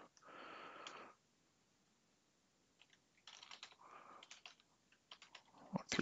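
Someone types a name on a computer keyboard while setting up product pricing, with one short burst of keystrokes followed after a pause by longer, irregular runs of quick clicks up close.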